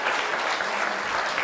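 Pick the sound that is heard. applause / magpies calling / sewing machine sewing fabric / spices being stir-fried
applause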